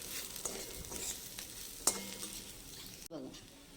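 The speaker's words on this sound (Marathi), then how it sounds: "ही सगळी भेंडी घालून परतून घ्यायची आहे." Okra sizzles quietly in a pan with masala as it is stirred and sautéed, with soft scraping strokes over a steady frying hiss.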